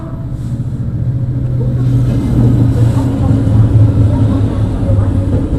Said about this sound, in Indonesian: Hampir gua labasin tadi guys ini palang kereta api.